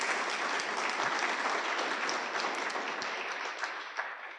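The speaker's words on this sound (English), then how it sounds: "Please give them another round of applause." Audience applause for students at a school of therapeutic sciences prize giving ceremony, a steady dense clapping from a large crowd filling the room throughout, with no voices over it.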